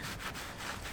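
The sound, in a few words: wiping a car panel with an alcohol-soaked rag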